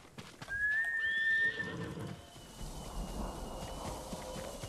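A horse in Ghost of Tsushima whinnies once, a high shrill neigh trailing off, followed by soft hoof clopping and low background rumble.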